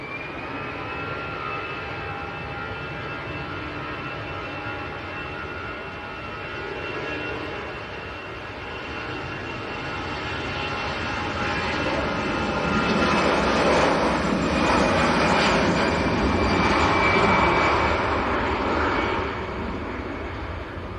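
An EasyJet jet airliner at Manchester Airport roars steadily throughout, its engine noise swelling louder as it passes closest before easing off slightly, with no talking.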